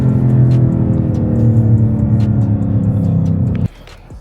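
A new Ford Mustang accelerating hard, heard from inside as a loud, deep, droning engine note that holds strong and then drops off abruptly near the end.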